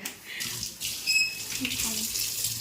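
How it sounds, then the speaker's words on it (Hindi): Hot water from a stove-heated pipe runs from a kitchen tap in a Himachal Pradesh home, a steady close splashing stream with a voice speaking over it. "इसी पाइप से पानी होते हुए इस किचन में आता है।"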